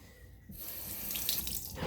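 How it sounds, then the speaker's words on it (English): Water gushes from a faucet into a sink, starting suddenly and running as a loud, steady splashing hiss, with no one talking. "I'm just going to come over here to the faucet"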